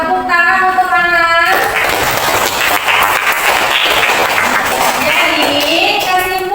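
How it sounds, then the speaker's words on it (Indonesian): Classroom applause during a history lesson, a dense burst of clapping from students that swells over several seconds, with a teacher's voice heard briefly at the start. "Tepuk tangan untuk Ana."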